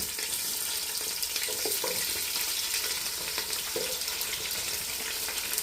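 Chopped onions sizzle and fry in hot oil with toasted garam masala, a steady broadband hiss running throughout with occasional soft stirring scrapes, close and continuous.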